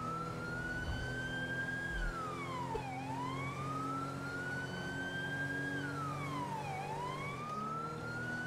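A police car siren in the GTA V video game wails up and down in slow, smooth sweeps. It is steady and moderately distant over a low engine hum, with no talking.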